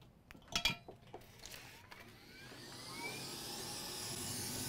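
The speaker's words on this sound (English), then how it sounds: "Fume extractor on." A fume extractor fan hums steadily at a soldering bench during a car tuner repair, its broadband whir rising after about two and a half seconds over a few earlier metallic clinks and taps.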